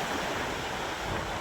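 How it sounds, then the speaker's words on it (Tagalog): Big ocean waves crash and surge continuously at a seaside fish port terminal, a loud, dense roar of surf mixed with wind buffeting close to the microphone, with no voices. "Kalalaki ng alon."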